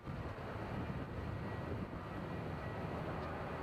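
A WestJet airliner takes off at Nashville International Airport, heard as a steady, broad engine roar from a distance, with no voices over it.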